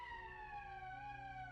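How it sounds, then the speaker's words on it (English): A wailing emergency siren from the video game Valkyria Chronicles, a single steady tone slowly gliding downward, faint and heard alone. "That's the emergency siren."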